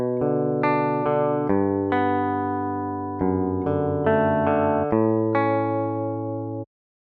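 Dry, unprocessed MIDI guitar from a basic Kontakt sample library plays a short chord loop, clean and even with crisp attacks and abrupt changes, ending cleanly after about seven seconds.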